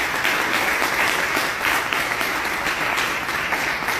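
A church congregation applauds during a sermon, a loud sustained clapping with slightly uneven swells and individual hand strikes popping out of the crowd.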